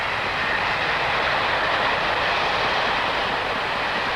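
A train rolls steadily along the rails in Australia, a constant broad rumble and hiss heard from inside the passenger carriage with no voices.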